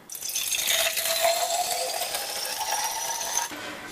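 Filtered water runs into a Sodastream bottle, a close continuous pour whose pitch rises steadily as the bottle fills, ending abruptly near three and a half seconds, with no talking.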